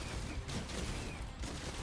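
Shotgun blasts from a Fortnite match, a dense, continuous barrage of gunfire filling the whole stretch, loud and close with no clear gaps between shots.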